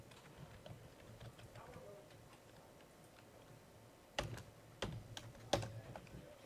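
Numbers are typed on a computer keyboard during a programming lecture: quiet background at first, then a few sharp, close key clicks in a short irregular burst near the end.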